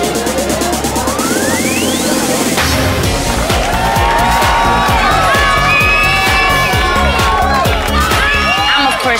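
A loud crowd cheers and whoops continuously at a bikini contest in Las Vegas, with shouting voices and music layered over the noisy, sustained roar.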